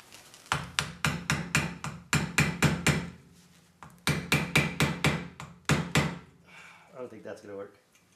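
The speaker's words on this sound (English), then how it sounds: "So I'm not sure if I could just hammer it out" Repeated hammer blows strike metal while knocking out a leaky tire valve stem, sharp bursts of rapid hits in clusters separated by brief pauses, close and loud, ending with a short spoken remark.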